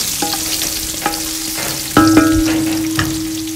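Whole onions dropped into hot oil in a large cooking pot for gotong Batangas, a close sizzle marked by a few clanking knocks and scrapes against the pan, quietly tailing off, with no talking.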